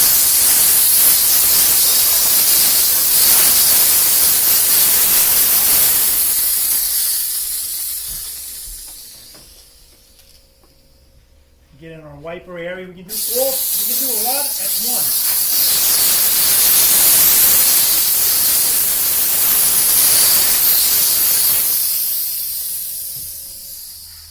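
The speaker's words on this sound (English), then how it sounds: "Fill up our steam hose, and now just spray the hood down." A Chief Steamer hose sprays steam across a car hood with a loud, steady hiss that fades out midway and then returns just as strong, while a person talks briefly during the lull.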